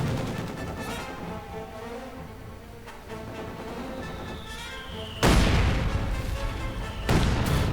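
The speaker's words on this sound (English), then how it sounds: "he's using an incendiary mortar round on this mortar squad" Incendiary mortar rounds fire in a World War II strategy game, a continuous rumble of distant battle before two sharp, loud booming impacts land near the end.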